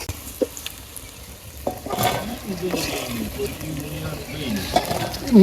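Prawns fry in a pan in a village kitchen with a low sizzle, broken by a few sharp clinks of a spatula and stirring scrapes. The sizzle grows louder and busier toward the end.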